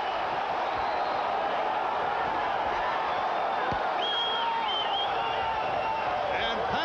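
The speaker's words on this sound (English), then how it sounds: "The crowd here in Providence roaring as Pazienza and Haugen move to the center" A boxing crowd roars steadily in a Providence arena during the 12th round of Vinny Pazienza versus Greg Haugen, a dense continuous swell of cheering and shouts, with a few whistles near the end.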